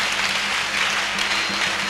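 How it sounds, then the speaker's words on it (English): Congregation clapping in a church service, a dense steady wash of many hands close by, with faint low hum underneath and no talking. "Clap for Jesus."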